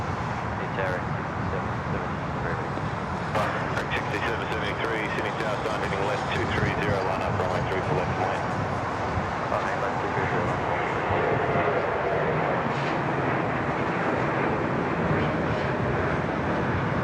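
A Virgin Australia airliner departing Sydney Airport gives a broad, sustained roar that holds steady throughout, heard at a distance with voices talking over it.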